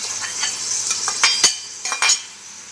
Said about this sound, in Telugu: బీరకాయ ఫ్రై చేసుకుందామండి.